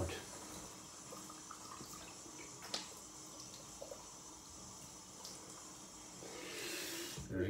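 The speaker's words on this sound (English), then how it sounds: "I'm pouring a bit of warm water on it because I like when it's, you know, not too cold" Warm water trickles and pours steadily onto a badger shaving brush over a sink, a soft continuous splash with a few faint clicks, swelling slightly louder toward the end.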